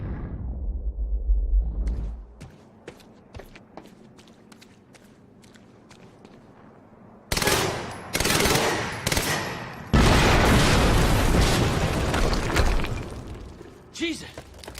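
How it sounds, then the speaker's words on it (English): An explosion in the video game Quantum Break, a sudden loud blast with a crashing, debris-filled roar following quiet footsteps and taps, then a second heavy burst of noise; speech is present. "HQ, we just heard an explosion near the harvesting perimeter."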